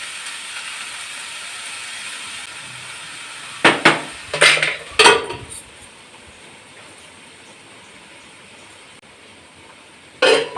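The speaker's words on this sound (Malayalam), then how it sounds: "അടയ്ക്കാൻ പാത്രം എടുക്കാൻ വരട്ടെ" A handful of sharp metallic clanks as pots and vessels are picked up and set down in a home kitchen, coming in short separate bursts over a soft steady background hiss.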